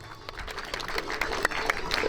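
Audience applause at a grape harvest festival in Krępa, Zielona Góra, during a grape-crushing demonstration. Scattered, uneven clapping rises from a crowd amid outdoor chatter, moderately loud and spread out rather than close.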